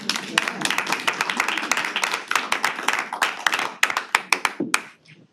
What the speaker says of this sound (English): how about applause for our three?